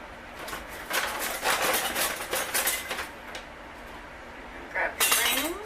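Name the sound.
canning lids set onto glass jars of tomatoes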